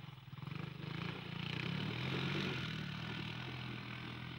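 A PGO BR500 (Bug Racer 500) two-wheel-drive buggy drives through the Agafay Desert in Morocco, its engine droning with a faint rising rev that swells and then holds steady.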